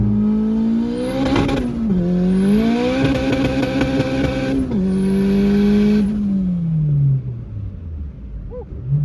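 A turbocharged car makes a full-throttle pull through gears on a very cold day: a loud engine roar climbs in pitch, dips sharply at each upshift, then eases off and fades toward the end.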